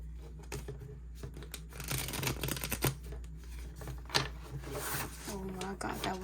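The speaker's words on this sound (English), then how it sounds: "that was an awful shuffle" A deck of tarot cards shuffled by hand in a clumsy attempt, close rustling and flicking bursts with sharp card snaps, a person talking intermittently over the shuffling.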